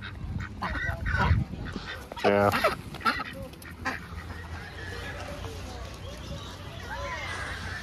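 Ducks and geese at a fall outing give a loud burst of honking, quacking calls near the start, with a few fainter quacks later, while people chat nearby.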